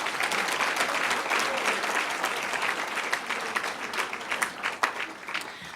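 Audience at an annual business awards meeting applauding the award winners, a dense, sustained round of clapping from a sizeable crowd, with a few sharper individual claps standing out near the end.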